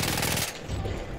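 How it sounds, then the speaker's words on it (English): A very rapid-firing machine gun in the video game Battlefield 1 rattles out a dense, loud continuous burst that cuts off partway, leaving quieter background noise. "Do you hear this gun?"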